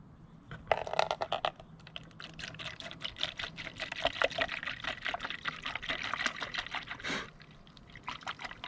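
A liquid micronutrient blend pours into a container, a bubbly trickle rising and wavering for several seconds, with a few small clinks, close up and no talking.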